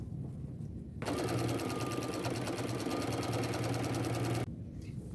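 A sewing machine runs a quarter-inch side seam on jeans in one continuous burst of rapid stitching, close and clear, starting and stopping abruptly with quiet room tone on either side.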